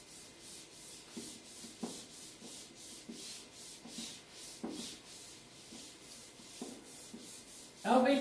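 A classroom writing board being wiped clean, with repeated rubbing strokes in a steady rhythm, fairly quiet and close, ending in a louder final scrub.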